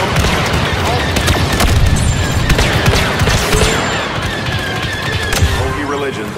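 Dense, continuous blaster fire from a Star Wars Battlefront II battle, with rapid overlapping shots and booming impacts layered over a constant roar of combat noise, loud and unbroken throughout.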